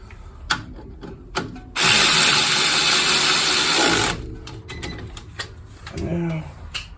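A power tool with a 14 socket drives a bolt during right axle replacement on a 1997 Honda Civic, giving one loud, continuous burst of about two seconds, set between scattered clicks and handling noises.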